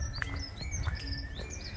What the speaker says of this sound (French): Les petits oiseaux qui sifflent.